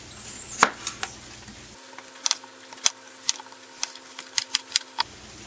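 A kitchen knife trims the outer skin off the bottom of a butternut squash on a cutting board, a series of sharp, close, irregular cutting clicks and taps with a brief quieter stretch in the middle.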